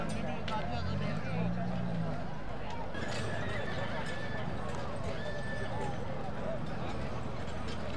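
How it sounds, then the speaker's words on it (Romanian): Draft horses in a Romanian double-pair pulling competition in Barcani clip-clop steadily throughout, with a brief whinny and busy outdoor crowd chatter and talk over the hoofbeats. "Are doi cai frumoși."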